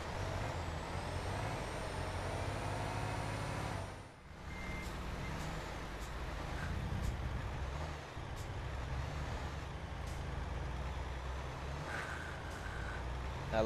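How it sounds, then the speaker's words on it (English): A heavy truck engine in Euro Truck Simulator 2 rumbles steadily with a grinding gear-shifter texture, punctuated by faint high beeps and a brief dip around the midpoint. "I like the grinding sound. What is your truck making?"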